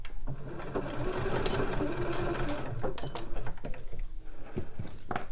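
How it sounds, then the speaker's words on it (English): A sewing machine stitches the back seam of homemade slipper boots, running as a steady, close mechanical whir with a rapid stitching rhythm and a few brief pauses and clicks toward the end. "you're then going to stitch all the way through anyway"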